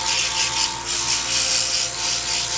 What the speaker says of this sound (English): we'll just smooth it down with 80 grit